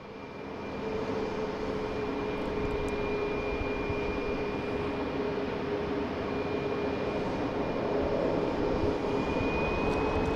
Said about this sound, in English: We have Delta coming in from Atlanta,